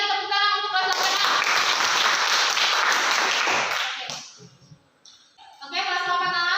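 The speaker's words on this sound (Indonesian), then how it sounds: "sekali lagi tepuk tangan untuk kelas 8A." Classroom of students applauding their classmates: a burst of brisk clapping about four seconds long that fades out, with children's voices speaking just before and after.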